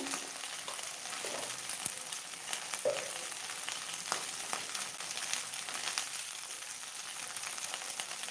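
Okra curry with turmeric fries in a pan, a faint, steady sizzle with occasional scraping and clinks as it is stirred, heard close but quiet, with no talking.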